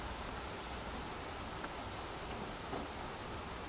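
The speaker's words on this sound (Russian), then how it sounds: "а вот у нас идет дождь. Капли такие большие." Summer rain with large drops falling outdoors among green vegetation, a soft steady hiss of drops with occasional faint individual taps, quiet and continuous with no voices.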